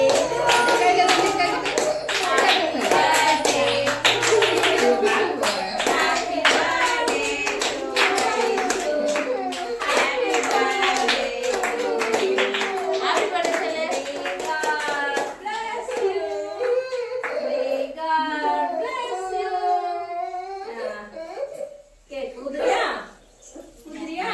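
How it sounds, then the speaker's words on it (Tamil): Hands clapping steadily through a child's birthday party while people sing happy birthday, the claps loud and close, then the singing breaks off near the end and a voice and scattered chatter take over. "ஹாப்பி பர்த்டே அப்படின்னு சொல்லி கிளாப் பண்ணி பாட்டு பாடுவோம்"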